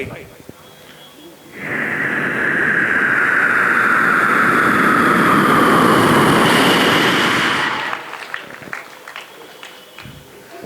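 A voice mimics a jet taking off, a rising whooshing roar that swells for several seconds before cutting off abruptly.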